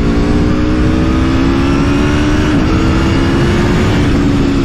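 A 2020 Aprilia Tuono V4 1100 Factory super naked motorcycle with its V4 1100 engine accelerates hard. The loud, close, continuous engine drone climbs steadily, with a brief dip in pitch partway through, and no one speaks.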